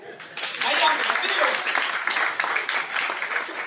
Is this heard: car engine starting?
no